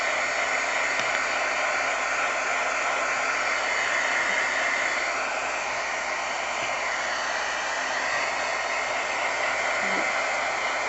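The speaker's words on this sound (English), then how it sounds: "I'm going to take my heat tool" A handheld heat tool blows a steady, loud hiss of hot air while drying gesso on a canvas, running unbroken from start to finish.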